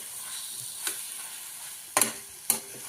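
Spiced potato mixture for aloo paratha stirred in a pan, with a soft background sizzle broken by a few sharp scraping strokes of the spoon, no voices.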